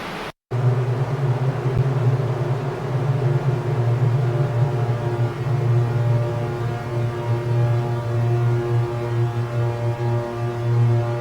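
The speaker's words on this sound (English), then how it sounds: "So this white noise was actually made taking this part of the sample here" A wash of white noise made by time-stretching an audio sample runs continuously as a dense, even hiss, with faint sustained low tones humming beneath it.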